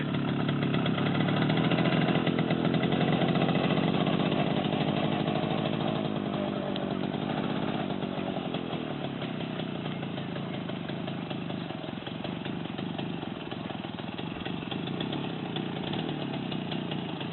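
A Romet motorcycle engine drones continuously during a first ride, loud and near at first, then settling to a slightly lower, steady running tone with no talking.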